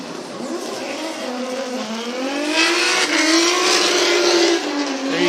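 A Nissan S15 drift car on a qualifying run at Sugo howls close by with its engine revving, while tires squeal in a long rising and falling skid that swells louder toward the end.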